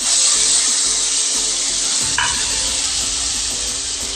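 A ground spice paste for khichuri, added over lightly fried vegetables, fries in a pan with a bright, close sizzle while a spatula stirs and scrapes through it, steady and loud, with no speech.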